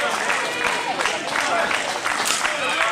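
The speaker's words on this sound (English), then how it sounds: "the crowd is getting into this one, fans" Crowd at a wiffle ball tournament cheering and clapping in a continuous outdoor roar, with scattered shouts rising over the noise.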